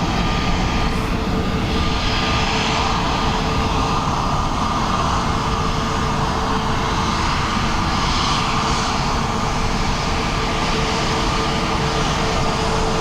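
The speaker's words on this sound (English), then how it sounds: "Might as well get these as they taxi by." Airliners taxi past at Dublin Airport, their jet engines producing a steady, loud, unbroken roar and rumble that fills the whole stretch with no voices.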